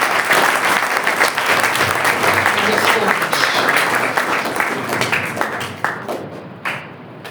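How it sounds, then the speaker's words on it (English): Sustained applause from a sizable crowd after an address, dense steady clapping that continues throughout and tapers slightly near the end. "give him a big, heartfelt round of applause"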